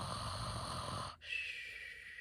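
A storyteller's voice imitates an ogre snoring, a rough, drawn-out rasping snore close up that breaks off briefly before a thinner breathy tone follows.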